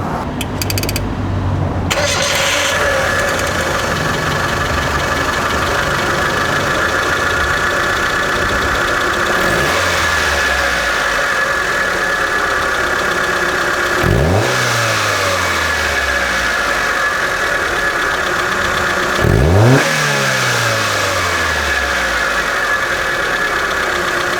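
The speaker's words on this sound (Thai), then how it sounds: "มาฟังเสียงเครื่องยนต์กัน" A 1990s Mitsubishi Lancer CK2 petrol engine idles steadily at close range, with a few sharp revs that rise and fall back to the idle.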